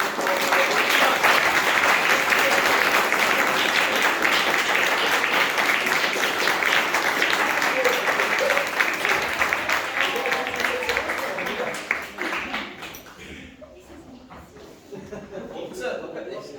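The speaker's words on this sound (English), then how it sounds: "Give Hunter a big round of applause." Sustained loud applause from a graduation audience for a graduate named Hunter fills the hall for about twelve seconds, then fades to scattered claps and voices.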